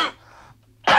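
A single short cough up close, followed by a brief quiet pause and the start of a second sharp cough.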